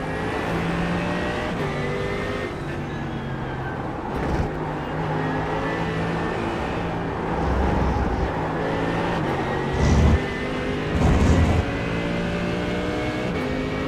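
Mercedes-AMG GT3 race car engine in a racing game at Mugello, a loud close engine note climbing and dropping through gear changes, with brief thumps and bursts as it races on.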